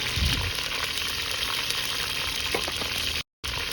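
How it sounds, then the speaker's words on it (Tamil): Curry leaves and green chillies sautéing in a clay pot for a village fish curry, a close steady sizzle with soft stirring scrapes, cut by a brief silent gap near the end. "எல்லாத்தையும் சேர்த்து நல்லா வதக்கிக்கோங்க."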